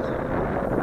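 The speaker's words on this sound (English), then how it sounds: "We got quite a bit of wind here." Wind buffets a microphone outdoors during a test flight of an RC Leading RC109F large FPV drone, a loud, steady rumbling roar with no break and no voices.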